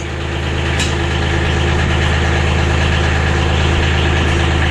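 A subcompact tractor engine idles steadily and close by, a loud, even low rumble with constant vibration and no talking.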